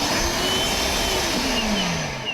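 Milwaukee M12 Fuel 1.6-gallon cordless wet/dry vacuum with a brushless motor, running on its own as a loud, steady, close whine with a slowly shifting motor pitch.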